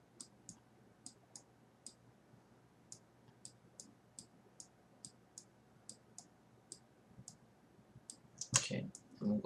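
A computer mouse clicks faintly and steadily, about twenty crisp, evenly spaced taps over quiet room hiss, followed by a brief louder rustle at the end.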